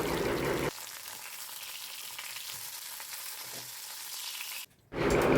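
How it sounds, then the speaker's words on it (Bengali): Slices of eggplant fry in oil in a pan on a gas stove, a loud sizzle that drops to a softer, even crackle, briefly cuts out, then returns strongly at the end, with no talk. "এবারে বেগুন ভাজাটা করব"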